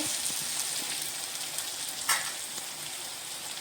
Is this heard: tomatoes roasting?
yes